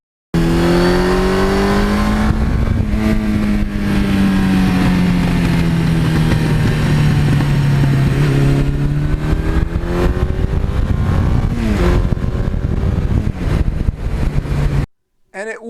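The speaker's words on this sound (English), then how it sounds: "it's got a nice quiet exhaust with a nice little rumble in there." Suzuki GS1100E motorcycle with 78,000 miles on a quiet exhaust, a continuous close engine rumble that rises and falls in pitch as it runs, with talking over it.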